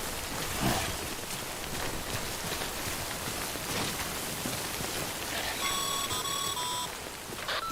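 Timefall rain in the video game Death Stranding Director's Cut on PS5 hisses steadily, with a dense patter throughout. A run of short electronic beeps briefly sounds near the end.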